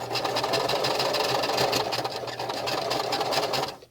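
A sewing machine stitching along a seam line, running steadily and continuously at a close, even pace for nearly four seconds before stopping at the end.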